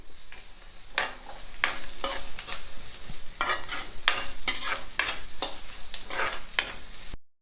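Onions and curry leaves fry and get stirred in a pan, a steady close sizzle broken by repeated scraping strokes of a spoon against the metal, with no voices.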